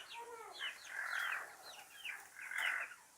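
Chickens kept in a home yard cluck nearby in short repeated bursts, a few quick chirpy calls rising and falling, with no talk.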